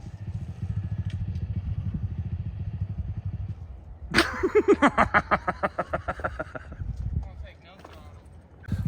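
A small 110cc pit bike engine revs in rapid pulsing bursts midway, close and loud, after a stretch of people talking over a low idle.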